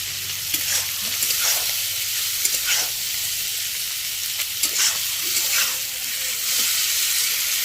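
Meat and vegetables fry in a pan with a constant loud sizzle, punctuated by repeated scraping stirs at an uneven pace.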